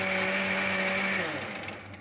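A mixer grinder grinding green chilli, curry leaves and ginger with a little water into paste runs at full speed, then winds down near the end.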